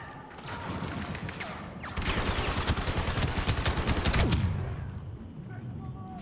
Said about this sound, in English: I was wondering why there's so many explosions all at once.